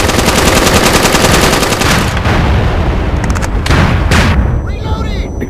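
Loud, sustained machine-gun fire pours at the front of a bunker in the shooter game MAG, rapid bursts running almost without pause, with booming impacts and explosions breaking in toward the end.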